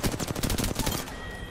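Fast automatic gunfire in a video game, a rapid close burst of shots lasting about a second before cutting off into quieter game ambience.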